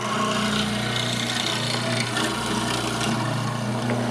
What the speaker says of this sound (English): I turn the machine on, and I make my first cut